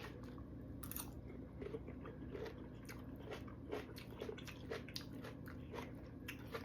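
Close, crunchy chewing of stir-fried chop suey vegetables, including cauliflower, with a steady run of repeated crisp bites and mastication and no talking.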